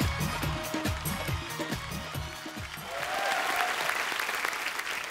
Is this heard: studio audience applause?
yes